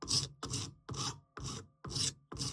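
A hand file rounds the edges of a homemade alloy wheel spoke sanding tool, six close, steady rasping strokes in an even rhythm with short pauses between them.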